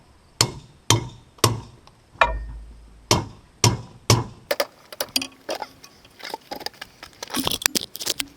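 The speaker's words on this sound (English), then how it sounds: "Just use the hardy hole here to hammer them out and get them all out." A blacksmith hammers pieces out through the hardy hole of an anvil. About seven sharp, ringing metal strikes come at a steady pace, then give way to a quicker, denser clatter of smaller knocks.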